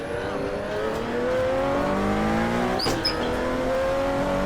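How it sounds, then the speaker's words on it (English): Ferrari 250 LM race car in a 1970 24 Hours of Daytona field, a loud close engine drone with rising gear-change tones holding steady, then a brief sharp whoosh as another car goes by. "This is the lone Ferrari 250 LM in the field."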